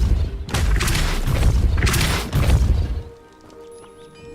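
Repulso spell impacts in Hogwarts Legacy on hard mode: a series of loud, booming bursts with crashing debris, two or three heavy impacts in close succession before fading into a quieter, ringing ambient tail.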